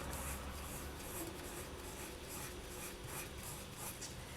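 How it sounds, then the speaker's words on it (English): Sandpaper rubs against a polymer clay leaf pendant in quick repeated back-and-forth strokes, a faint close scratchy rasp with an even rhythm and no talk. "you want to really go at it with the sanding papers"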